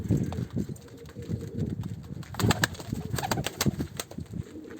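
Soft pigeon cooing murmurs in a coop under a low rumble of background noise, with a few sharper bird sounds and rustles in the middle.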